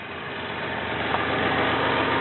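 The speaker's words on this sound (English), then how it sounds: "I mean, you can hear the engine." A Toyota Camry V6 engine idles steadily and quietly, a smooth continuous rumble without revving, heard up close.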